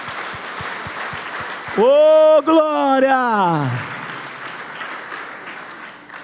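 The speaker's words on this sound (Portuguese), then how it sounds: "Então dá mais um aplauso ao Senhor aí," Church congregation applauding steadily, with a loud sung or shouted voice rising over the clapping for a couple of seconds before the applause continues and fades.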